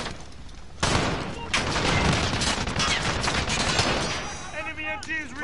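Sustained automatic gunfire from an enemy machine gun in the 2019 Call of Duty: Modern Warfare campaign, loud and continuous with dense rattling bursts, a brief voice near the end.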